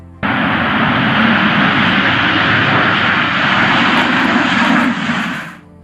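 A Tupolev Tu-160M2 bomber's jet engines roar loud and close, a broad steady rush that starts abruptly, holds for several seconds and then fades out.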